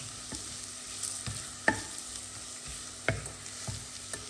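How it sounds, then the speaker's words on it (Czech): Beef tongue sauce frying in a pan as sugar caramelizes, a steady soft sizzle with a few sharp clinks of a spoon stirring against the pan, close and alone with no talk. "No a budu opejkat dál. On ten cukr skaramelizuje a taky mi tam přidá tu barvu trochu."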